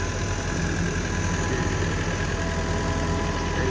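A farm tractor's engine idles nearby with a steady, even mid-to-low throb and faint knocking, continuous and unbroken for a few seconds with no talking.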